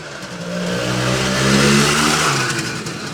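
Two-stroke engine of a 1973 Ossa SDR 250 Six Day Replica motorcycle with its original Amal carburetor revs up and holds a loud, rising whine, then eases back slightly. It runs steadily and close by for about three seconds with no talk.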